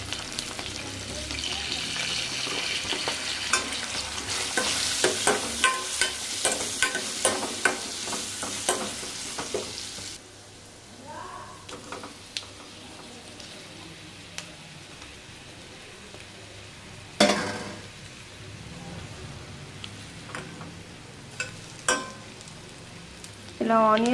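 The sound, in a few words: onions frying and being stirred in a pan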